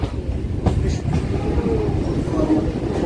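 Rumbling local train noise with a steady low roar and a few faint squeals, close by and continuous throughout.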